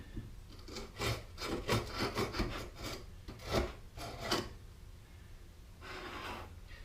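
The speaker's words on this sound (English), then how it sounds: "So let's do a little trimming around here." Rasping, scraping strokes of trimming on a wooden ram up block, a run of close rubbing passes in uneven rhythm, then a pause and one more scrape.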